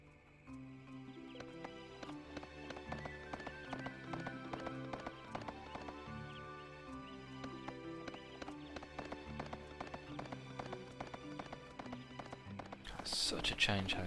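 Horses gallop in the video game Suikoden 3 with a fast, steady clip-clop of hooves that runs throughout, mixed with game music and ending in a brighter burst.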